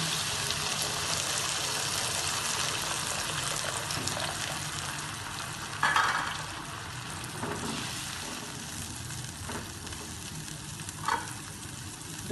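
Two cups of chicken stock hit a hot frying pan while making chicken fried rice, setting off a loud, steady sizzle and bubbling that runs the whole time, with a few brief splashes and clatters near the middle and end.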